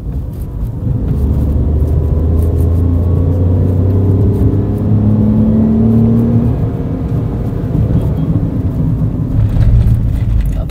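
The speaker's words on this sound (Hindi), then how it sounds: "चलिए थोड़ा गाड़ी को खींच के हम लोग देखते हैं।" A 2024 Tata Tiago CNG with automated manual gearbox accelerates hard, its engine droning and rising steadily in pitch under continuous road rumble, loud and close from inside the cabin.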